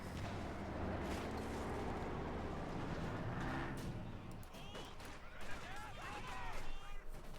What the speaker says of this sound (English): Shots being fired back and forth.